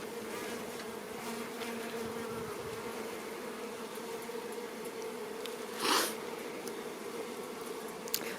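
Honeybees buzzing in an opened hive, a dense continuous drone close by that stays even throughout, with one brief louder rustle near the end and no talk.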